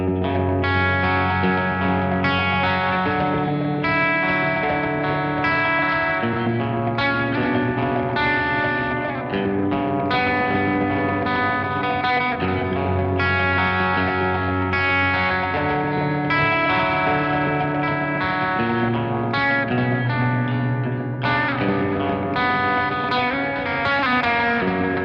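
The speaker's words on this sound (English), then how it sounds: "a different modulation effect and a different reverb." Electric guitar played through a BOSS MD-500 modulation pedal and reverb, with wobbling modulation and spacious reverb washing over sustained distorted chords, steady and loud throughout.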